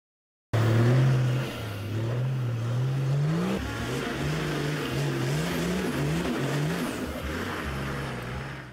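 4x4 off-road vehicle engines roaring at a competition track in Koné, a loud revving drone whose pitch climbs and dips repeatedly as the vehicle accelerates over the dirt course, continuous throughout.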